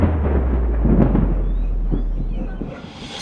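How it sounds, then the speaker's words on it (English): A thunder-style transition effect: a loud, deep rumble that swells near the start and rolls on steadily for a few seconds, fading toward the end, with no voices. "Put it up and then thunder transition"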